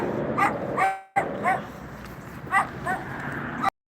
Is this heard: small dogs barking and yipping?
yes